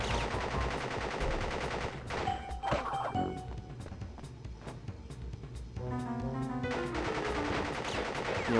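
In the Crash Bandicoot video game, Pinstripe fires his gun in rapid repeated bursts over busy game music and effects, the shots loud and sharp throughout with no speech.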